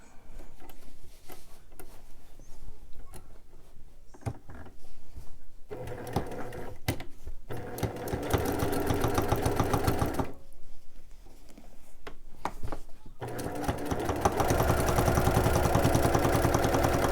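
A sewing machine runs in bursts while free-motion quilting, its fast needle chatter starting and stopping with short pauses and growing louder and steadier toward the end, close and alone.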